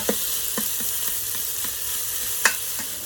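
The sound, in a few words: onions sautéing and being stirred in olive oil in an Instant Pot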